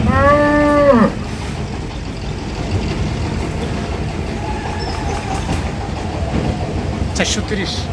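A crossbred bull or cow at a weighing scale in a rural cattle market lets out one loud, drawn-out moo at the start, followed by a steady bed of crowd and market noise.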